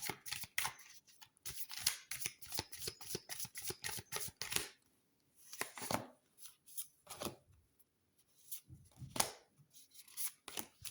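Tarot cards shuffled for a weekly reading: close, quiet, rapid riffling and flapping in dense rhythmic bursts, a brief pause, then more scattered shuffles and snaps, with no one speaking.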